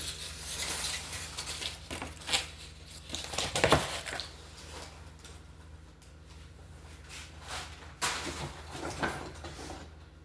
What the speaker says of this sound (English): Gotta love that crinkling of the paper.